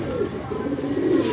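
A pigeon coos close by in a soft, low, rolling call, one sustained burst over a steady outdoor background.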